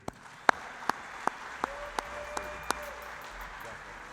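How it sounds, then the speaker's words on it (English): An awards-ceremony audience claps as a sparse, scattered round of applause, with a handful of sharp, distinct claps standing out over a faint, thin background of room tone. "let's give one more big round of applause for the 2022 Courage Award recipient, Dagan Kruger."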